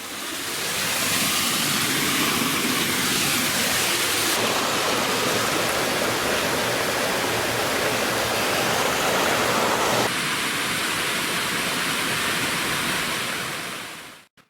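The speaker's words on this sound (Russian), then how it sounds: "Когда вода поступает по этому желобу, то там мельница начинает крутиться." Water rushing down a wooden chute feeding a mill in the Pakistani mountains, a loud, dense, unbroken roar of broadband noise lasting the whole stretch, close and steady, with no voices before it cuts off at the end.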